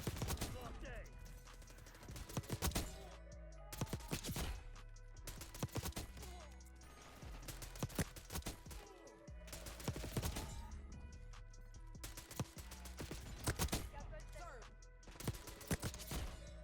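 Slow-firing Tanto submachine gun in the shooter game Black Ops 6, letting off repeated short bursts of loud, sharp shots separated by brief pauses over a bed of game ambience and mechanical clatter.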